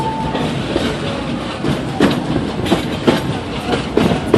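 Magic Kingdom railroad train ride around the park, steady rolling rumble with rhythmic clickety-clack of wheels over rail joints, close and continuous.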